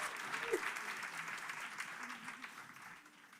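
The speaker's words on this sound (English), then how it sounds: "Give them all a round of applause." Fairly quiet audience applause for a panel on designing for youth autonomy, inclusion and safety, a soft sustained patter of many hands, with faint murmurs and a voice intruding underneath.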